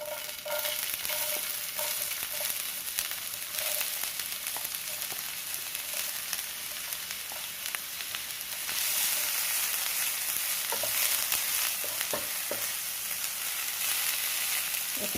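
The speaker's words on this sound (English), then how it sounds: "So now I want to stir fry the onions and the carrots." Onions and carrots stir-frying in a pan over high heat, a loud, continuous hiss of sizzling oil up close, with occasional spatula scrapes and a surge in intensity partway through.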